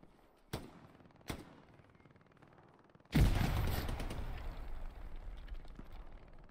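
Gunfire in the World War II shooter Hell Let Loose, two sharp single shots followed by a loud, sustained rattling burst and rumbling echo, as from a machine gun.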